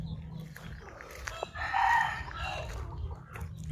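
Chickens cluck and a rooster crows at mid-distance on a Thai farm, with one crow swelling in the middle over a steady outdoor background.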